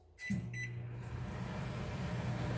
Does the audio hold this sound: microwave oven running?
yes